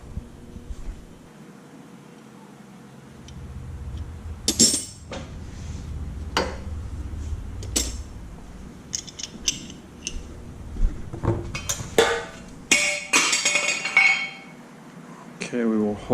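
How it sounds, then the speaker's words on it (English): A wrench is picked up and handled while prepping a cycle tank for custom auto body paint, with scattered metallic clinks and clatter, some sharp and close, among quieter shuffling pauses. "So let me just get a wrench quick."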